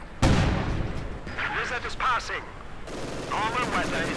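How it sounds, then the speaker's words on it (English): Rapid bursts of Maxim machine gun fire in the Company of Heroes 2 strategy game, clattering in loud volleys under a commentator's steady talk. "Maxim firing away."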